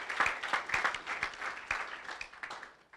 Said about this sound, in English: Can we have a big round of applause for these 5 organizations?